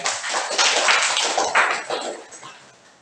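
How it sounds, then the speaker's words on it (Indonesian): A class of senior high school students claps for a group after its presentation, a burst of many hands that swells fast, stays busy for about two seconds, then fades out. "tepuk tangan buat kelompok 3"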